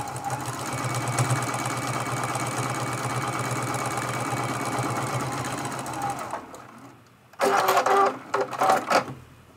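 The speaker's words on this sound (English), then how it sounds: "We're going to go ahead and sew the seam for this next piece." A sewing machine stitches a seam on a scrappy crazy-quilt pin cushion, running steadily for about six seconds before stopping, followed by a few short, louder bursts of other sound.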